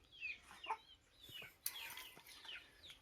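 Parrot-beak chickens cluck and chirp on a village poultry farm. The calls are faint and scattered, with a few sharper squawks over quiet background noise.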